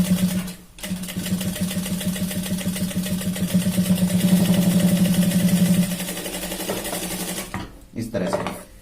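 Close, loud sewing machine running in steady bursts while stitching along a shirt's shoulder seam, a rapid rhythmic whir that stops near the end, with a voice speaking Hindi over it.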